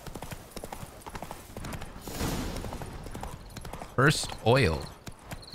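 Roach, the horse in the video game The Witcher 3: Wild Hunt, gallops with a rapid, steady clip-clop of hooves, a short burst of other noise partway through, and a voice speaking briefly over the hoofbeats.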